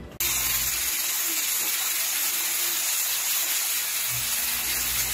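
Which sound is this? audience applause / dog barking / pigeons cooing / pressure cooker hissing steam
pressure cooker hissing steam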